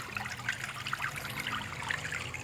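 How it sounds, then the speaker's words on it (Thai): Water flows out through a large drain pipe from a frog-rearing pond with a continuous, steady trickling and gurgling rush, heard close and even throughout. "น้ำตรงนี้จะไหลออกแรงนะครับท่อมันจะใหญ่"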